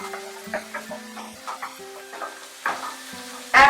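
Ginger paste frying in a pan for green peas pulao, quiet sizzling under repeated scrapes and taps of a spoon stirring against the metal, a sharper louder clatter at the very end.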